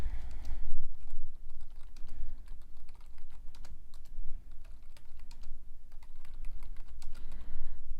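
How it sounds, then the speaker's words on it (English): Steady, quick clicking of fingers typing on a computer keyboard, close and fairly quiet over a low background hum. "keep typing, create entirely new dummy scenario"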